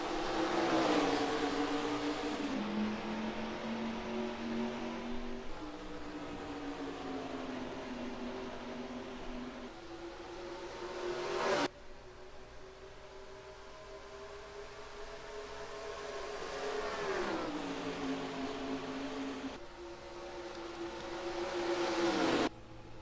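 Stock car engines roar at Phoenix in the NASCAR Racing 2003 video game, with a loud, continuous whine that rises and falls as the cars shift and pass, alone for over twenty seconds with no voices.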